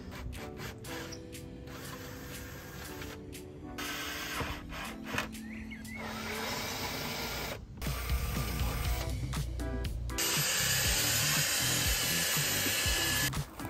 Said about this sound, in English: So now I'll drill back through from that side and then repeat the process for the other three.